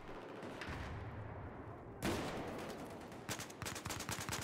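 Gunfire in the video game Battlefield 4: continuous bursts of shots and impacts, with a sharp louder onset midway and rapid crackling volleys toward the end, dense and close.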